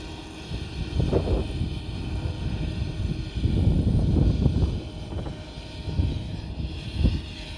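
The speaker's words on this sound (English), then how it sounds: "which is a subcompact tractor. It's a 25 horsepower tractor with 18 horsepower on the PTO" A 25 hp John Deere 1025R subcompact tractor drives a Titan 54-inch drum mower over hilly ground, giving a steady engine drone with swelling surges, close and moderately loud, with no talk.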